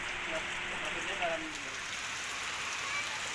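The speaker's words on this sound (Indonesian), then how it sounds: "Hujan lebat yang mengguyur kota Banjarmasin sejak Senin pagi menyebabkan warga was-was." Heavy rain pours over the city of Banjarmasin on a Monday morning as a constant dense hiss of water striking surfaces, steady and even throughout.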